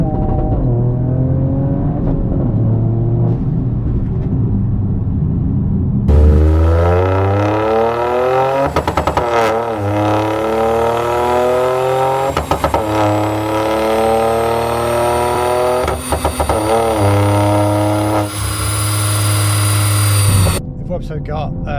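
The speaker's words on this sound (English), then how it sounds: "you can go keep the throttle pinned to the floor and change gear" Toyota GR Yaris tuned with EcuTek on a dyno, held at full throttle through flat-foot gear shifts, revving high, cutting briefly at each shift and climbing again, loud and close with a voice talking over part of it.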